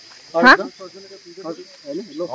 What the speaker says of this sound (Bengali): ঝিঝি পোকা আওয়াজ বন্য ঝিঝি, বন্য ঝিঝি